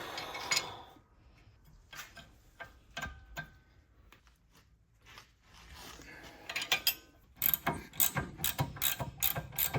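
Wrench loosening the 17 mm rear brake caliper bracket bolts on a 2014 Honda Accord: quiet, irregular ratcheting clicks and metal knocks, growing busier and louder toward the end.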